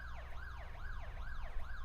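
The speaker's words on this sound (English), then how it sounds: "there's that telltale siren" A wailing race-start siren in a 1980s sports car racing video game at Spa, rising and falling in a steady repeating sweep, loud and alone with no talk over it.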